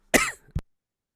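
A single sharp cough followed by a brief second short cough, close and clear, with silence after.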